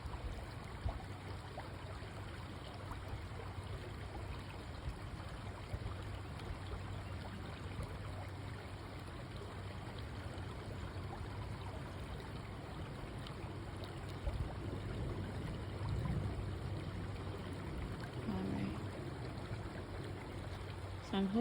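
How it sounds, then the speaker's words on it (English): Flowing stream water heard outdoors, a soft continuous rushing and trickling at low level that holds steady throughout, with no talking. "So I'm hoping you all can hear the water."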